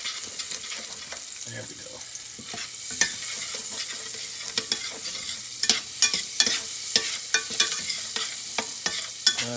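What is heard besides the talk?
eggs frying in a pan for huevos rancheros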